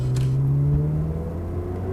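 A cold Ferrari 360 Modena F1 engine accelerating hard from inside the car, a deep droning rumble whose pitch climbs steadily through the rev range.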